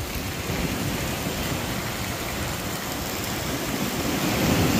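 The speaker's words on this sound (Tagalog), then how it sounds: "Malakas lang ang hampas ng alon." Strong sea waves break against a rocky, cemented shore in a continuous loud roar of surf and spray, with no pauses and no voices.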